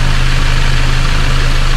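A 2012 Subaru VX engine idles steadily after a spark plug and rocker cover seal service, a smooth, even low hum with a constant rhythmic pulse, close and alone.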